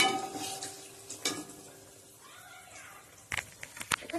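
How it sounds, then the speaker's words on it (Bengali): Diamond-cut lentil-cake pieces fry in a pan in a home kitchen with a soft, low sizzle, broken by a few sharp metal clanks and scrapes of a spatula against the pan. "বরফিগুলো ভাজছে।"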